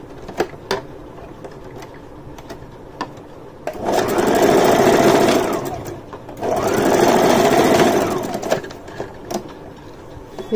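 Sewing machine stitching men's underwear fabric, running in two steady bursts of a few seconds each, loud and close, with quiet handling clicks and rustles of cloth between and around them.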